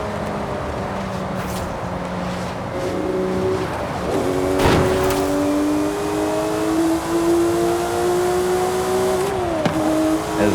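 A Porsche 997 GT3 engine revs in Forza Horizon 5, played on a Logitech G29 wheel, its rising and falling tones climbing through the gears with shift breaks, loud and steady throughout.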